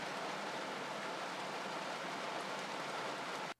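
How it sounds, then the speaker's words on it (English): A heavy summer downpour in Cowan, Tennessee pours down as a dense, even hiss of rain that stays steady and fairly loud throughout, then cuts off abruptly near the end. "arriving in a complete summer downpour"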